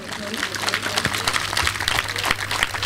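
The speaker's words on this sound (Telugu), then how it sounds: "గట్టిగా చప్పట్లు కొడతారా ఒకసారి?" A church congregation at a prayer meeting at St. Joseph's Church claps steadily for about three seconds, a dense crowd applause with voices mixed in.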